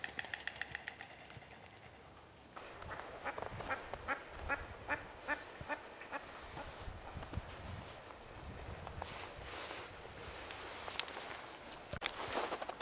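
Ducks quack on a small park lake in Lviv, Ukraine, where swans are also present. A few loud calls are followed by a long run of rhythmic quacks, with soft footsteps and outdoor ambience underneath.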